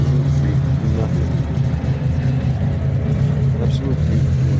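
A turbocharged Peugeot 205 GTi engine drones steadily at close range, a low sustained hum with mild rises in pitch throughout, and voices are audible underneath.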